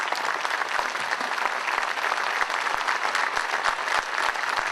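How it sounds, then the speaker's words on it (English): A crowd applauds steadily at an Orlando Police Department change of command ceremony as the new police chief takes the podium, dense continuous clapping with scattered sharper claps, moderately loud throughout. "Let's please give her a nice round of applause as she takes the podium"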